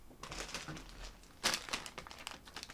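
Paper is handled and cut into a circle for a handmade card, soft crinkles and rustles near and quiet with one sharper crunch midway.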